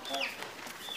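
Two roosters clucking nearby, a run of short, wavering calls and chirps coming in quick bursts at moderate volume.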